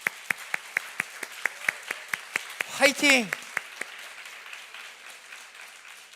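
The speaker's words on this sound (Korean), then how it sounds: "우리 순자님들을 축복하는 마음으로 격려의 박수 한번 보낼까요?" A church college congregation claps in slow unison, sharp evenly spaced beats, then someone lets out a brief shouted cheer in the middle before the clapping fades and stops.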